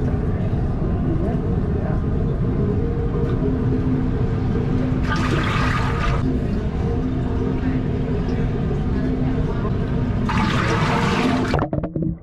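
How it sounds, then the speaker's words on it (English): Water rushes and splashes steadily in the pool on the deck of the Disney Fantasy cruise ship, a loud continuous wash with two brighter surges of spray, fading at the end. "Some heavy duty waves knocking the cameras down over there."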